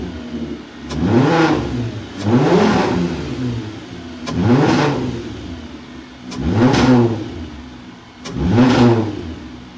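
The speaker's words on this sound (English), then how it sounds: "start up the car and hear these intake whoosh noises" MK4 24V VR6 engine with an ECS cold air intake, revved five times in steady succession, each rise bringing a loud rushing intake whoosh that swells and falls back to idle.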